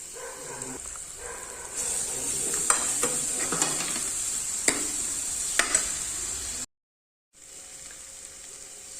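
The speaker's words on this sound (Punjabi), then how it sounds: "ਦੋ ਤੋਂ ਤਿੰਨ ਮਿੰਟ ਆਪ ਇਹਨਾਂ ਨੂੰ ਚੰਗੀ ਤਰ੍ਹਾਂ ਭੁੰਨਣ ਲਈ ਰਹਿਣ ਦਵਾਂਗੇ" Steady sizzling of spices and green chillies frying in a pan for a yogurt dish tempering, with scraping stirs and clinks over the hiss, briefly cutting out near the end.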